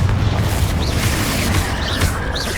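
A Confringo fire spell explodes in the video game Hogwarts Legacy, heard as a loud, steady booming roar with a dense low rumble that holds for the whole stretch, while faint swooshing effects pass over it.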